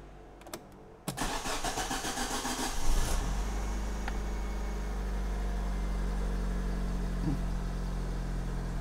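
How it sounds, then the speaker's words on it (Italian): Car engine cranked by the starter and catching after a battery test, settling into a steady idle close by, with no talk. "Allora dice di spegnere tutti i sistemi e avviare il veicolo."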